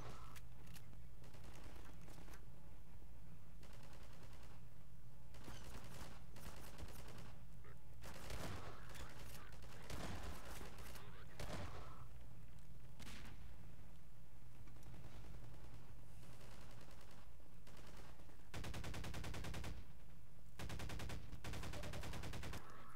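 Gunfire in Half-Life 2 as a shotgun blasts repeatedly amid a dense firefight, loud irregular shots and bursts layered over continuous game noise for the whole stretch.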